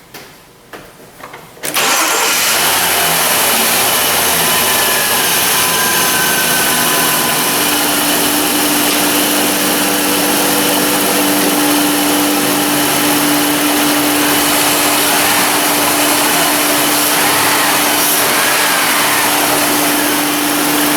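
A Jeep Liberty engine cranks and catches within about two seconds, then runs steadily and loudly at idle with a constant hum and whine, with no one speaking.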